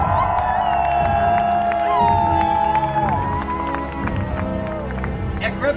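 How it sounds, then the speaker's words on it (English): A crowd at Griffith Observatory roars and cheers during a blood moon viewing, a dense continuous wash of voices with scattered claps and shouts, and a voice speaking over it. "I think I need to hear the growing roar of the crowd."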